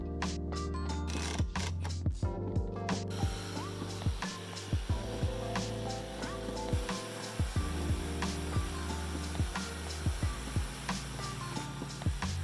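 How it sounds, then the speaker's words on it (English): A jigsaw cuts a plywood handle template for a sledgehammer, a steady buzzing saw drone running throughout with repeated short clicks and knocks rising and falling as the blade works, close and fairly loud with no talk. "I will cut it out with a jigsaw."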